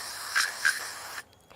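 A steady, close hiss of aerosol sensor cleaner spraying into a Subaru WRX sensor runs continuously with a couple of brief sharper bursts, then cuts off abruptly, leaving quiet.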